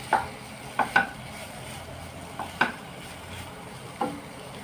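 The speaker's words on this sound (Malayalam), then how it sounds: "തേങ്ങ ഇട്ടിട്ട് നമുക്ക് ഇളക്കാം" A spoon stirs jackfruit with grated coconut in a pan, a few scattered scrapes and taps over a quiet low sizzle, with no speech.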